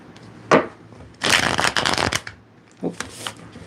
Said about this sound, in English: Okay, one more shuffle on these ones.